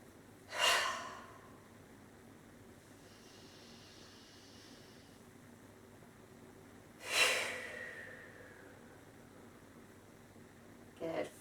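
Slow, deep breaths during a gentle yoga stretch: two clear, airy exhales about six seconds apart, followed by a brief inhale at the end, close and quiet with near silence between them.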